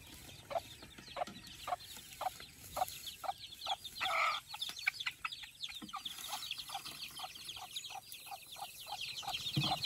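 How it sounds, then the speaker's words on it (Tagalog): A hen out on range gives a steady series of soft, evenly spaced clucks calling her chicks, with faint peeping and outdoor background around her, no voices. "Siya yung tatawag sa mga sisiw niya."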